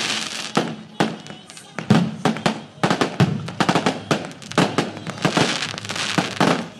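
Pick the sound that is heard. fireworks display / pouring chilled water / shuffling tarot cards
fireworks display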